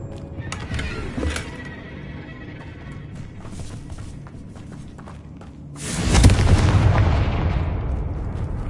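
The Confringo fire spell bursts in Hogwarts Legacy, a PS5 game, with a loud booming blast near the end after quieter thumps and pops of spell combat earlier.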